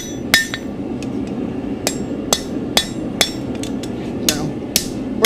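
Metal is hammered by hand while forming a door latch, a series of sharp, ringing blows struck at an irregular pace, close and clear over a faint background.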